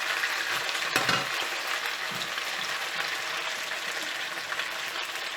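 Vegetables and chicken fry in a hot pan for XO chicken, a dense, steady hissing sizzle with occasional stirring scrapes, close and continuous throughout.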